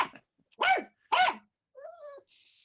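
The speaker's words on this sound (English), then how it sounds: "Bark sound is realistic. Sounds like a real dog." A realistic dog bark sound, with two sharp, loud barks close up in quick succession, followed by a short, thinner whining tone and then quiet.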